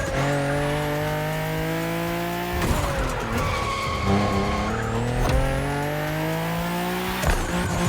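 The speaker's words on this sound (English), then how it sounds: "V6 sounds pretty good in this thing." Engine note of a V6 swapped into a car in The Crew racing game, revving and rising through gears with harmonic whine, broken by tire squeals and skidding as it shifts, loud and continuous with no talk.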